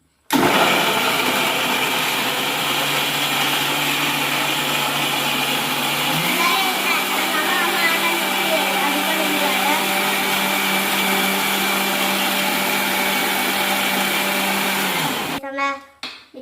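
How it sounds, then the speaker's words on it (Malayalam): An electric mixer grinder blends mango pieces with sugar and water, a loud steady whine and rumble running continuously for about fifteen seconds, stepping up slightly in pitch partway through, then winding down and stopping at the end. "ഇനി ഇങ്ങോട്ട് മിക്സ് ചെയ്തിട്ട് അടിക്കാം"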